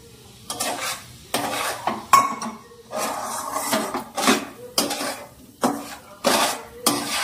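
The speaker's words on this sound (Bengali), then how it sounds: "ঘিটা ভালো করে গরম হয়ে গেছে, তখন যে এক বাটি সুজিটা নিয়েছি এই সুজিটা দিয়ে দেবো।" Semolina poured into hot ghee and stirred in a pan for suji halwa, giving repeated scraping, clinking strokes of a spoon against metal in an uneven rhythm, close and fairly loud, with a faint sizzle beneath.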